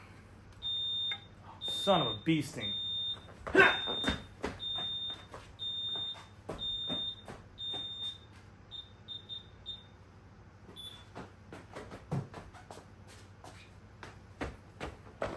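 A smoke alarm chirps in a steady series of short high beeps through a bike workshop, spaced about a second apart and then stopping, with scattered clicks and handling noises and someone talking over it.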